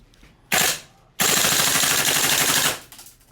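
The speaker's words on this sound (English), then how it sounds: "now we're going to test the new Brighter C and the Predator MKII silencer on full auto here" An airsoft gun with a Brighter C tracer and Predator MKII silencer fires on full auto: a short burst, a brief pause, then a long sustained string of rapid suppressed shots emptying the magazine.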